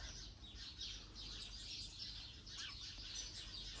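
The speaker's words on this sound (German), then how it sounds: "Das sind diese kleinen Spatzen oder wie die heißen." Small sparrows chirp busily in a palm tree in Turkey, a dense and continuous twittering that sounds faint and somewhat distant against a soft background.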